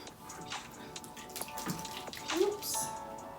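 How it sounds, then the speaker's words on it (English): Water pours and splashes into a potted plant's soil, a short close gurgling trickle with small drips. "I'm just gonna soak this guy up because he needs a drink of"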